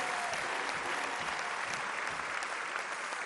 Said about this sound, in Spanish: A ellos nuestro reconocimiento y el aplauso fuerte.